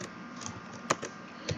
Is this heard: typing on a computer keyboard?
yes